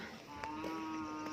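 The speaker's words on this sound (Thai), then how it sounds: "นะมีควายอยู่อ่ะ" A buffalo at a rural cattle and buffalo market lows in a steady, sustained moo close by, with faint market background around it.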